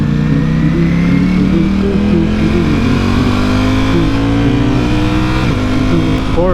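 A Lamborghini Aventador accelerates hard, its engine roaring loud and close as the pitch climbs steadily, with a brief shift near the end.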